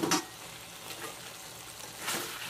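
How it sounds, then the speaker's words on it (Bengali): Chicken and potatoes fry together in a pan with a moderate, even sizzle. Two brief stirring scrapes come at the start and near the end, and no one speaks. "এবার হচ্ছে আলুটা দিয়ে চিকেনটা কষাবো"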